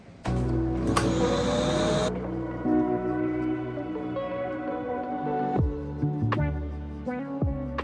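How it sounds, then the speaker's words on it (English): A hoover runs while vacuuming a hallway, a loud steady mechanical drone with brief bursts of hiss and thumps as the head is pushed across the floor. "I need to hoover this hallway"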